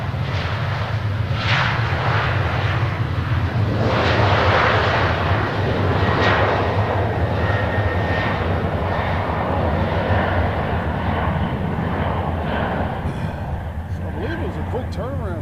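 A WestJet jet airliner at Nashville International Airport produces a loud, sustained engine roar with a deep rumble and a whining tone, close and constant for the whole stretch, while people talk over it.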